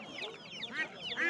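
Chickens and chicks at a poultry market give a brief burst of faint, high clucks and peeps, a few quick calls in a row.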